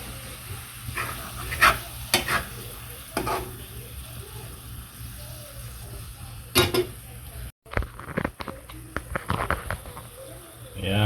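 A spoon stirring laing, Bicolano taro leaves simmering in coconut milk, in a pan at home; soft scraping and bubbling come in intermittent bursts, with sharper clinks of utensil on pan, close and moderately loud.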